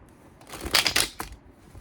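Tarot cards are shuffled by hand in a quick burst of crisp riffling and flicking, a few sharp close bursts with a brief pause, then softer rustling.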